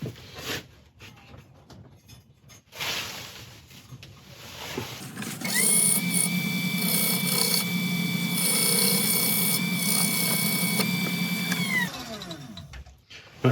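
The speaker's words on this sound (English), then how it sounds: "just going to sand that back." Willow wood spinning on a lathe while being power sanded: a few seconds of quieter shop noise and scraping, then a loud, steady high whirring hiss that holds for about six seconds before winding down.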